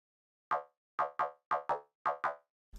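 Heavy electronic synth lead in an electronic music production, playing seven short, punchy plucked notes in a bouncing rhythm, clean and alone before a brief low thump at the end.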